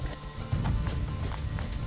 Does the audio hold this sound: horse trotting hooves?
yes